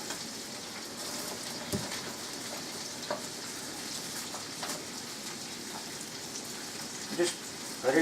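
Cabbage and carrots cooking down in a pot, a steady close hiss and crackle like light rain that runs throughout, with a few soft clicks and knocks of utensils on top.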